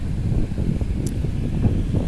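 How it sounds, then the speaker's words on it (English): Steady wind roars and buffets the microphone with a low, continuous rumble, with no other sounds standing out. "it sure is windy up here"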